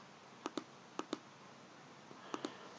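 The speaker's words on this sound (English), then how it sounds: "go on your calculator, type in the matrix" Keys on a calculator are pressed while a matrix is entered: three quick pairs of small, crisp clicks over a faint, steady background hiss, with no talk.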